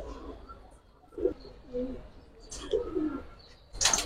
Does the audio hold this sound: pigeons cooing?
yes